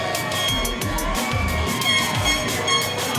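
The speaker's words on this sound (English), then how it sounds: "The crowd is going crazy," A wrestling crowd at a GCWA event roars continuously as a steady, dense wall of cheering and shouting, loud and sustained throughout with scattered whistles and voices rising above the din.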